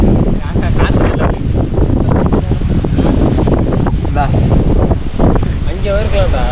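Strong wind roars and buffets the microphone continuously and loudly, with voices talking underneath.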